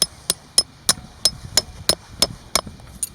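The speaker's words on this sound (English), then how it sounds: "getting the hammer." A hammer driving stakes into the ground to anchor a soccer net gives about ten sharp, evenly spaced knocks, roughly three per second, fairly close and moderately loud, with no voices.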